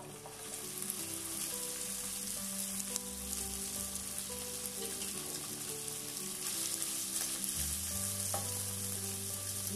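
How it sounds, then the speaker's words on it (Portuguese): Chopped calabresa sausage and about 30 grams of bacon fry in a thin film of oil, giving a steady, dense sizzle and crackle that holds evenly throughout with no voices. "E agora eu vou deixar dar uma fritadinha nela."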